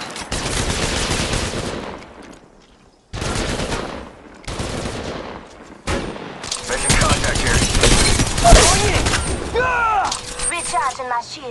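Several loud bursts of automatic gunfire in the battle royale game Apex Legends Mobile, separated by short silent gaps, then a long continuous barrage with mechanical clatter and sweeping electronic effects near the end.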